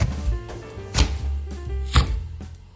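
Knife slicing through peeled Honeycrisp apples on a board, three firm, evenly spaced cuts about a second apart, close and clear with no talking.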